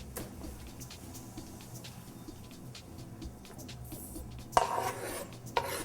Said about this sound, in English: And then I'm going to chop up a little bit of fresh parsley.